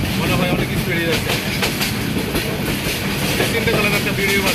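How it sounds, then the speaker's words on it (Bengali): An express train from Dhaka to Sarishabari, Jamalpur runs at high speed, giving a loud, steady, close rumble with continuous clickety-clack of wheels on the rails throughout. "ট্রেন অনেক স্পিডে যাচ্ছে,"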